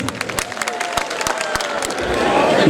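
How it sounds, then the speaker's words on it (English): Audience applause at a community gala night, clapping that starts sparse with a few sharp near claps and builds into a denser crowd sound with some cheering toward the end. "Please give him a round of applause again."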